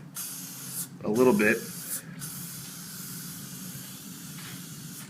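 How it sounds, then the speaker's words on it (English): Valspar spray paint hissing from an aerosol can onto foam for a wargaming battle board, a steady broadband spray of about a second at close range, with a voice speaking briefly over it. "you're just going to spray"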